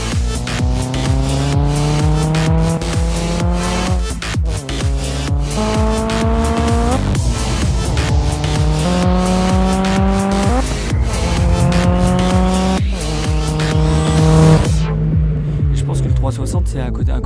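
A race car on a circuit roars through repeated rising gear shifts, tires squealing, loud and close throughout before the engine cuts off near the end.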